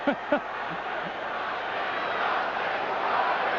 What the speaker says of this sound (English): Well, Dennis Rodman's got this crowd whipped up now.